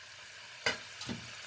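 Garlic and coriander frying in a pan, a soft background sizzle with two quick stirring scrapes, the first sharper, close and fairly quiet.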